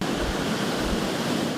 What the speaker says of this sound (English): The waves can be powerful and unforgiving.